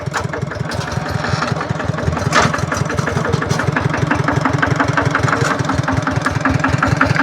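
A tractor engine idles close by, a steady fast rhythmic diesel chug that stays loud and even throughout, with no voices over it.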